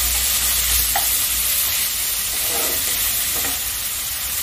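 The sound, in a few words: onion and garlic frying and being stirred in pan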